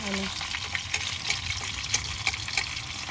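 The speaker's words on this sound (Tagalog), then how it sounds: "ipiprito lang natin siya ng kaunti lang, hindi yun yung pritong-prito" Tilapia frying lightly in a pan crackles and sizzles steadily, with small sharp pops and faint stirring scrapes and a brief low tone at the start.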